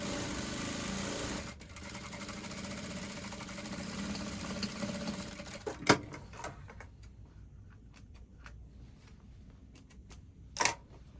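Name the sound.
sewing machine stitching a dress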